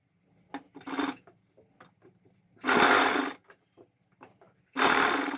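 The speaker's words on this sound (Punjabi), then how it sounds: "ਉੱਪਰ ਆਪਾਂ ਇੱਕ ਦਬ ਮਸ਼ੀਨ ਲਾ ਦਾਂਗੇ" A sewing machine stitches fabric for small warm socks in three short bursts of whirring chatter, with quiet gaps and faint handling noises between them, close by and without speech.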